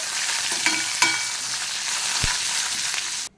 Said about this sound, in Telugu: కరివేపాకును కూడా వేసుకొని కరివేపాకు కూడా చక్కగా వేగేంత వరకు వేయించుకోవాలి